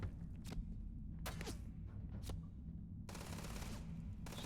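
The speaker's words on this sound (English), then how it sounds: "Somebody else is shooting at me too." Gunfire in the Starfield video game comes in a few faint, quick bursts of shots, then a longer sustained volley, over a low rumbling background.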